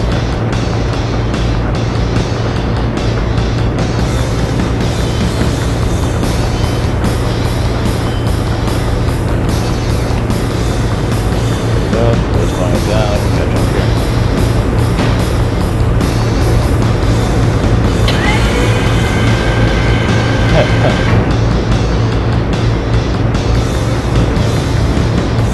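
A vehicle engine driven in the video game Shenmue drones loudly and steadily throughout, a constant low hum with rising and falling engine tones over a dense game soundscape.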